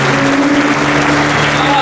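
A church congregation in Taubaté applauds loudly, a dense, continuous roar of many hands clapping close by, with sustained musical tones held underneath.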